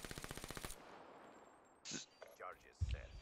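Rapid machine gun fire in a video game rattles off a quick burst of about a dozen evenly spaced shots, then cuts out, leaving faint game noise and a few brief sounds.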